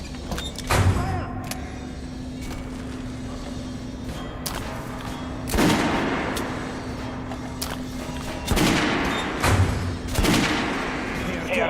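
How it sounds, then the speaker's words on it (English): Guns fired at a shooting range in the video game Metro Last Light, with several loud sharp shots spaced a few seconds apart over a constant low hum, one pair of blasts close together, alongside brief speech. "Head over to my range and try out those guns."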